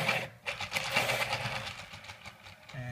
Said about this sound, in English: that sound you hear in the background, that's my trusty automatic sharpener